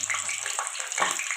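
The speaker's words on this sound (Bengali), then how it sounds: "তেলটা গরম হয়ে গেছে, এবার সেই তেলে দিয়ে দেবো আগে থেকে ধুয়ে রাখা আলুগুলো।" Washed potatoes drop into hot mustard oil, giving a short, close burst of crackling, hissing sizzle that swells briefly near the end.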